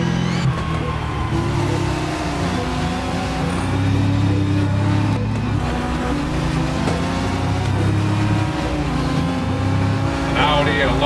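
Race cars roar and rev in Test Drive Unlimited Solar Crown, a pack of Bugattis, an Audi and a Lotus among them, giving a steady loud engine drone with shifting pitch throughout while someone talks over it.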